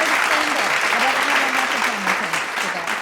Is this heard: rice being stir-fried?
no